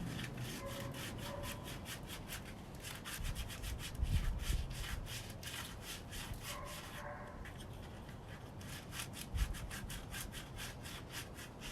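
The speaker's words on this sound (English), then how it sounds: "I'll guide my thumb along the inside of the spoon, just sanding as you go" Steady hand sanding of a carved wooden spoon with rhythmic rubbing strokes, continuous and close, with a couple of soft knocks partway through.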